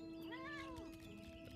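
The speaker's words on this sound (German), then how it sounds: "Dicke Katze!" A cat meows in the video game Final Fantasy 14, one drawn-out, rising and falling meow close up over a soft game background, with no talking.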